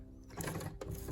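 A sewing machine stitching on a button: a short, close mechanical whir with two quick bursts of needle clatter, quiet and alone.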